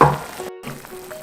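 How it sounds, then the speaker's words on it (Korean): Radish soup with kelp and potato bubbles in a pot, a soft continuous sizzling burble heard briefly and up close, with no talking. "자, 끓고 있어요."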